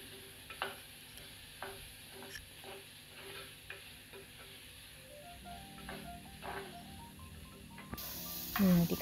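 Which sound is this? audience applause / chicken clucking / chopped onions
chopped onions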